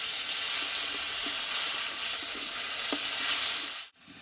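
Ground onion and garlic paste fries in hot oil with a steady, loud sizzle and hiss, broken by faint stirring scrapes, then cut off sharply near the end.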